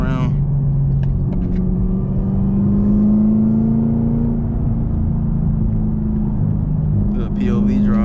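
A Camaro ZL1 with a manual gearbox drones steadily from inside the cabin while driving, its engine note climbing slowly in pitch and then easing back, loud and continuous.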